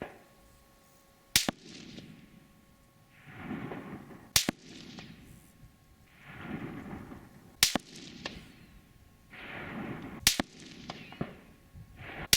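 A Remington 700 SPS Tactical rifle fires 175 grain rounds, four sharp, loud shots spaced a few seconds apart, each followed by a softer rumbling echo from the range.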